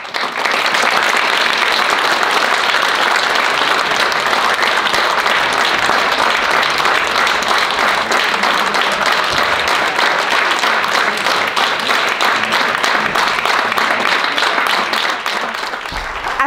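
Sustained audience applause greeting a folk dance group at a school half-year performance, a dense, even wash of many hands clapping at steady loudness throughout, with no talk over it.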